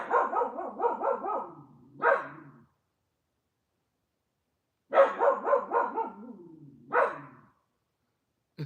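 A puppy barks at a coyote in a quick run of sharp yips and barks, with a pause and a second burst of barking, close and loud, no talk.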